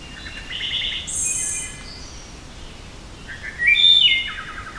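Outdoor birdsong: a few short, high chirping phrases come in bursts over a soft, steady background hiss, with a longer trilling phrase near the end.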